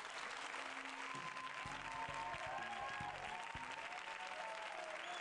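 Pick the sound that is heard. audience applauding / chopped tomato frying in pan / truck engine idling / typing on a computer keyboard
audience applauding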